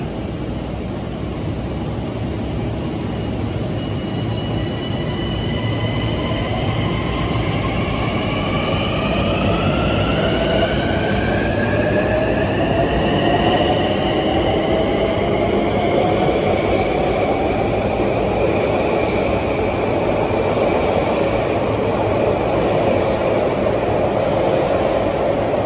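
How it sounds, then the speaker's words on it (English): Long Island Rail Road train 6030 made up of M9 cars pulls out of Lindenhurst station bound for Babylon, a steady loud rumble with rising whine and wheel squeal as it accelerates, heard up close with no voices. "It's train 6030 departing Lindenhurst for Babylon with these beautiful M9s."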